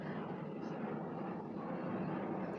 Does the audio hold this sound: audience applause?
no